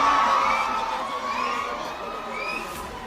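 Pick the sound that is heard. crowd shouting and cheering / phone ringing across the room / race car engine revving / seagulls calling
crowd shouting and cheering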